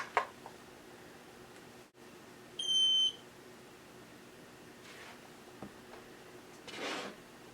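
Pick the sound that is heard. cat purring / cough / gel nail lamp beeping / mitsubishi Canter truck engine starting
gel nail lamp beeping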